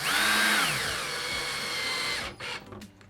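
A power drill drives a screw into an R/C car wall hanger, a loud close whine that rises and falls in pitch, then cuts off into brief clicks and handling noises.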